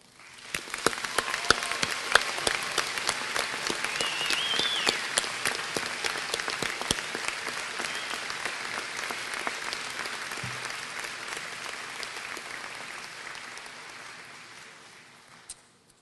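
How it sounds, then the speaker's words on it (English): Applause from the audience at a university graduate and credential commencement: sustained clapping from many people, starting up quickly, staying steady for a long stretch and then gradually fading away. "And for that, we applaud all of you."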